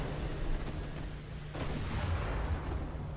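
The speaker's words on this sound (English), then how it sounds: "And main gun fire." Heavy warship main guns boom in a naval battle in Ultimate Admiral Dreadnoughts, a deep rumbling blast rising midway through a low, steady battle din, with no talk.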